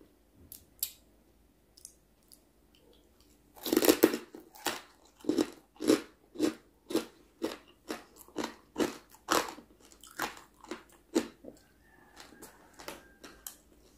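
Crispy fried pork belly being bitten and chewed close to the mic, a run of loud, sharp crunches in a fairly regular rhythm after a couple of quiet opening bites, with no talk.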